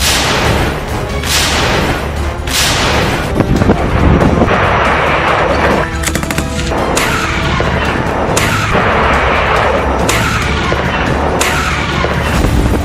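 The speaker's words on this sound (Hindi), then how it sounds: "रूस पर यूक्रेन का मिसाइल हमला" Ukrainian missile strike on Russia, a continuous loud roar of blasts with several heavy booms rising out of it every couple of seconds, dense and distorted.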